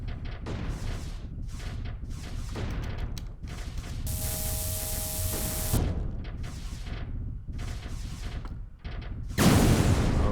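Rapid video-game gunfire keeps going in dense bursts through a busy firefight, with a steady ringing tone partway through and a louder blast of shots near the end.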